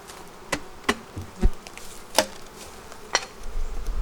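Honeybees hum around an opened hive in a backyard apiary, a low steady drone close by, punctuated by several sharp knocks and clicks of hive parts being handled.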